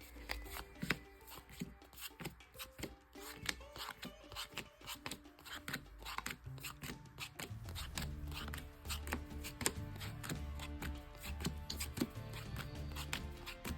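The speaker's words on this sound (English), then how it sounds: "I'm just shuffling real quick. Probably power shuffle too." A deck of trading cards is shuffled by hand close up, with a steady run of quick riffling and flicking clicks that grows denser partway through. No one talks.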